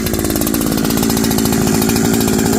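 A NEO-TEC NH872 gas chainsaw running close by just after starting, a loud, rapid, buzzing two-stroke engine idle with a steady pulsing rhythm throughout.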